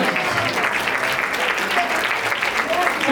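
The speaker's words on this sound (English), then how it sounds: "Come on, y'all, clap it up, give it up." Audience applause at a fashion show, steady broadband clapping filling the room from start to finish at a loud, even level, with a voice faintly present underneath.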